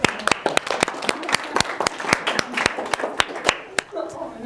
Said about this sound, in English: An applause for yourself